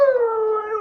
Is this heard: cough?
no